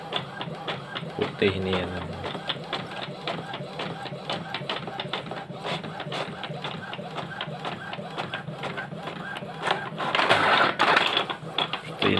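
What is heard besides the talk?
printer printing blank wedding invitation cards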